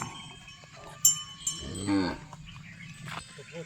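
Cattle at a cow market in Chalisgaon, with soft livestock shuffling, a few sharp cowbell clanks, and a single low moo in the middle, heard close without talk.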